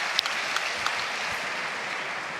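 Spectators at an indoor padel match in San Sebastian clap together, a steady, moderately distant wash of applause with a few sharper claps standing out.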